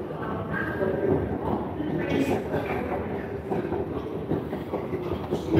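Rumbling underground train noise fills a metro station in Qatar, steady and fairly loud, with a rolling rattle and faint voices mixed in.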